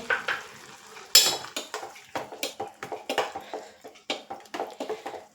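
Beaten curd being stirred into pineapple kichadi in a pan on low flame, a quiet series of repeated scraping and clinking strokes of a spoon against the pan, close by and with no talk.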